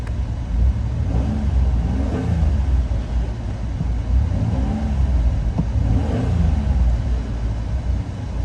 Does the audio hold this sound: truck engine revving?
yes